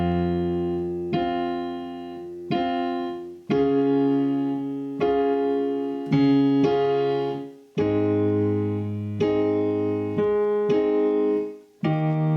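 Piano plays a ballad with both hands together, steady sustained chords struck roughly every second or so, clear and close with no talking.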